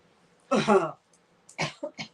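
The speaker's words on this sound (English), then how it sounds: "I think she was coughing." A single harsh cough, followed a moment later by a couple of shorter coughs or throat-clearing bursts, close and otherwise quiet.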